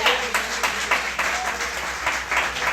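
A church congregation applauds in rhythmic bursts of clapping that swell and dip in regular pulses, moderately loud and close, with no one speaking over it.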